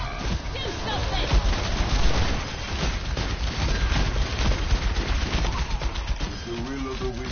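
Cartoonish bomb blasts from the Overwatch Junkenstein event roll on in a dense, continuous barrage of booming thuds and crackling impacts, loud and busy, with music and a faint voice mixed in.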